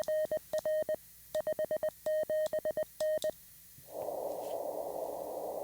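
Short high electronic beeps keyed in an irregular Morse-like rhythm, followed by a burst of steady hiss; no one speaks.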